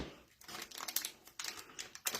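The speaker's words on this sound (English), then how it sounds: "we're going to do the same thing with our scissors around that first ring" Scissors snip around the first ring of a plastic piping bag used for buttercream, making close, crisp crinkling cuts in quick repeated bursts.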